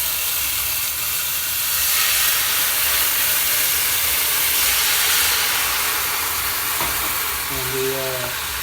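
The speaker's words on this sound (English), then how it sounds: "take the pan off the heat and carefully add the wine" Wine poured into a hot pan of shrimp shells produces a loud, steady steaming hiss that fills the whole clip, with a brief voice near the end.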